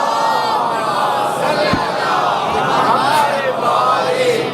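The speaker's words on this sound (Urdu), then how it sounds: "صلوات پڑھے محمد اور آل محمد پر." A large congregation in an imambargah calls out salawat together at a majlis, a loud massed chorus of voices swelling in unison, dense and reverberant, sustained throughout.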